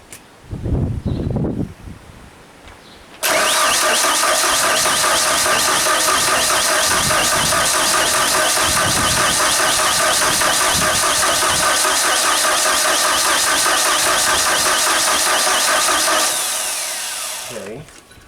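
A Genie boom lift's engine cranks loudly and continuously for about thirteen seconds without catching, a steady mechanical starter churn that tapers off, preceded by a few short knocks and handling sounds.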